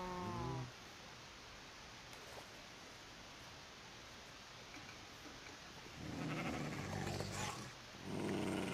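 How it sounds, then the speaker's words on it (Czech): In the Minecraft video game, dogs attack sheep, giving short harmonic bleats and growls near the start and in the last few seconds, with quiet ambient game noise in between. "Psíci nám zabili ovce."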